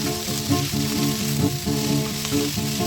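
Yellow and red bell peppers fry on high heat in a pan, giving a loud, close, unbroken sizzle with faint stirring scrapes and no voices.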